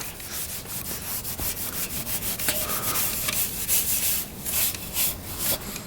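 Chain lube rubbed onto the chrome of a Honda Z50 motorcycle with a cloth, a continuous rhythmic scrubbing and rasping, close and fairly loud with no talk.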